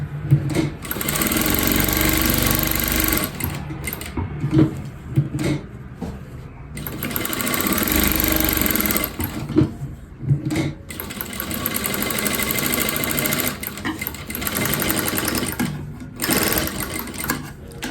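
A sewing machine runs in bursts of rapid mechanical stitching while a katori blouse is sewn, with short pauses between runs, close and clear.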